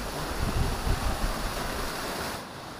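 Steady broadband rush of Pandurucan Falls in Sablayan, Occidental Mindoro, pouring continuously at close range with a slight easing near the end and no voices.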